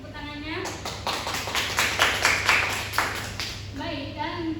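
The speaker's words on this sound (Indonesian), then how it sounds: "Tepuk tangannya." An audience in a classroom gives a short burst of scattered hand clapping, rising and fading over a few seconds. A voice talks before and after it.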